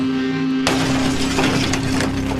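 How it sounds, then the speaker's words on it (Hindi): A glass bathroom door shatters with a sudden loud crash, followed by a dense spray of tinkling shards that rings on for about two seconds over a steady low hum. "तेज शोर के बाद वह शीशे का दरवाजा टूट गया"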